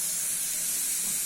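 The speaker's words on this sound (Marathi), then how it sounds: "भाताचा कुकर लावलाय" Steady broadband hiss of steam escaping from a pressure cooker cooking rice in a home kitchen, continuous and fairly loud with no breaks.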